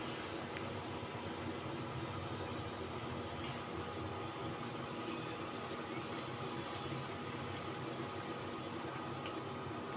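Dal puri sizzles in a little very hot oil in a small wok, a steady close hiss and bubbling frying sound with no talk.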